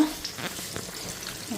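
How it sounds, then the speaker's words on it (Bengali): Pitha frying in hot oil with spices, a soft continuous sizzle and crackle at moderate level, with faint kitchen clatter and no clear speech. "আর এদিকে ভাজা"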